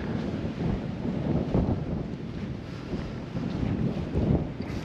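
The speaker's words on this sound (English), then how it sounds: "Perfect wind speed too." Wind blows across the microphone on a kiteboarding beach in Kalpitiya, Sri Lanka, a steady, gusty low rumble with a faint surf-like wash beneath it.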